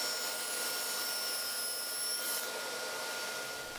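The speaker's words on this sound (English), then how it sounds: "This prevents the workpiece from binding up as I push it through the saw." Table saw running steadily while crosscutting a workpiece guided by a precision miter gauge, a continuous loud whine with a bright high tone that drops away near the end as the cut finishes; no talking.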